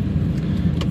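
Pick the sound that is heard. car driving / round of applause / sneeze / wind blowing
car driving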